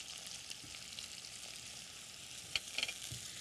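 Garlic sizzling in a hot pan while preparing a healthy Indian dish, a steady broadband frying hiss throughout with a couple of brief sharper crackles near the end, no talking.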